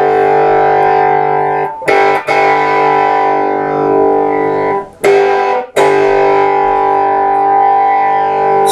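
Electric guitar played through a Stiff Hippy II overdrive pedal, sustained distorted chords ringing loud and alone, broken by a few brief gaps and pick-scrape attacks between held notes.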